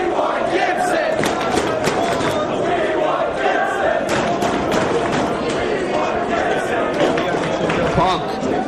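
Wrestling arena crowd chanting for a wrestler, a dense, loud wall of massed voices with rhythmic shouts and cheers sustained throughout, close and enveloping.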